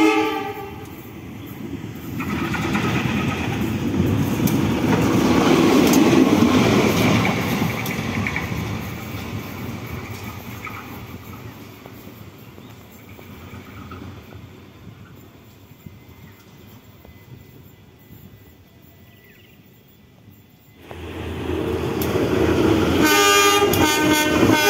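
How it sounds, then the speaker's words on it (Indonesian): A locomotive on a special run near Madiun, Indonesia, returning from a load test, passes with a loud rumbling roll that swells and fades, with blasts of its horn near the start and again at the end. "KLB lokomotif pulang selesai uji beban"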